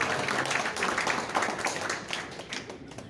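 Audience applause at a gathering with a bishop, a dense steady wash of clapping from many hands lasting throughout, fairly loud and even with slight swells.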